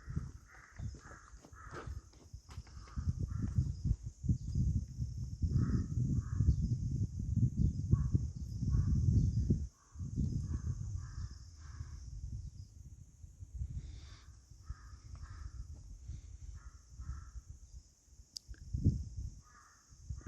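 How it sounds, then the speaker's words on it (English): A broad-billed crow calls repeatedly in short, spaced caws along a mountain trek trail at Jalori Pass, heard at moderate distance over rustling footsteps and low outdoor noise, with no talk. "You are hearing the call of broad-billed crow."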